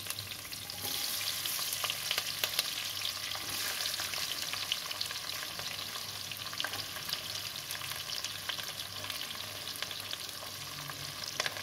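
Onion petals for restaurant-style chilli paneer frying in hot oil, a steady, close, continuous sizzle with occasional crackles and light stirring, no voices.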